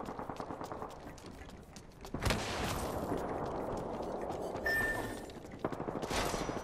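Video game gunfire erupts in bursts of rapid, loud shots, with a sustained roar of fusillade in the middle and more sharp firing toward the end, no talking heard over it.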